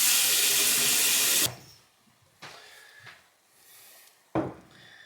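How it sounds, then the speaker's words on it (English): Water poured into a glass for an electrolyte drink, a steady loud pour that stops abruptly, followed by a few quiet clinks and knocks. "So now I'll just put a bit of water in that."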